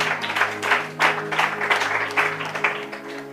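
A church congregation applauds in a sustained, uneven burst of clapping that swells and fades over a few seconds, with a low musical hum beneath.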